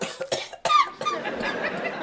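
A few sharp coughs in quick succession, close by, followed by a softer rustly tail of breathy noise.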